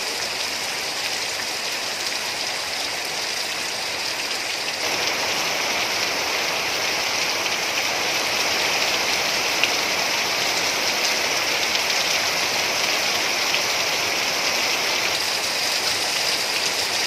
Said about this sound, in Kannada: ಧಾರಾಕಾರವಾಗಿ ಮಳೆ ಸುರಿದಿರುವಂಥದ್ದು.